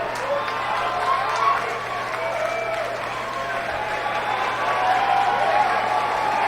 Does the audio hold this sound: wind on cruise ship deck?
no